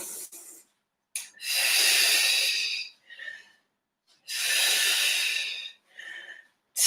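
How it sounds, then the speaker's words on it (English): After a Pilates workout, someone takes two slow, deep breaths close by, each a long airy inhale and exhale of hiss with short gaps between them. "Take some deep breaths."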